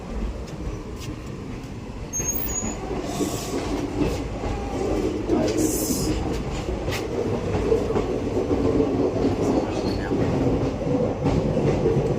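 A train rumbles steadily and close by, with rhythmic clattering of wheels over rails and a metallic screech partway through as it rolls into a station.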